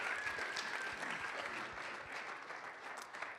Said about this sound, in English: Let's give a quick round of applause for Josh